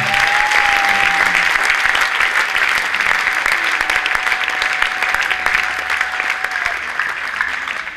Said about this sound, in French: Can we clap for him?